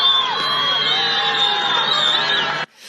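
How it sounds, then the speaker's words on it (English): A crowd of migrants rushing toward the border near El Paso cheers, whoops and whistles, a dense continuous roar of shouting voices with shrill whistles riding on top, loud and close, ending abruptly. "You can hear people cheering,"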